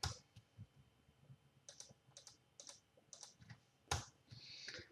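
Keys pressed on a computer keyboard for a Ctrl S shortcut, faint scattered clicks and taps with one sharper keystroke near the end, close and without talk.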